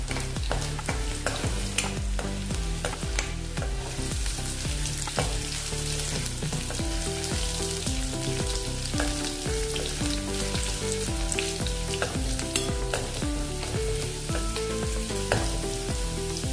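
Sliced ginger and chopped garlic frying in a pan, a busy sustained sizzle with frequent stirring clatter and scrapes over a steady background tone, close and continuous with nobody talking.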